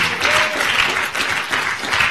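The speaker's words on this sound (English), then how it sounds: "give God a hand clap of praise in this place today" A church congregation at a Sunday Baptist worship service claps hands in praise, a loud, dense burst of applause filling the room with a faint voice underneath.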